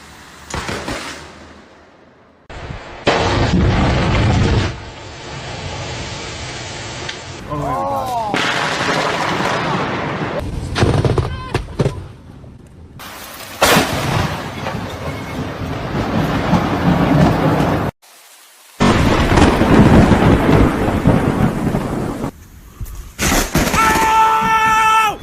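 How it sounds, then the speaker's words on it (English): Heavy thunder from intense lightning strikes, with booming cracks and long rumbles in several separate bursts split by abrupt gaps, some close and loud, alongside rain and occasional voices. "Crazy lightning strikes."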